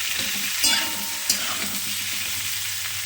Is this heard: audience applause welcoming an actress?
no